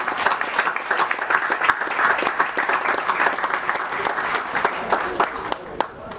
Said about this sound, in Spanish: Un aplauso por este alcalde.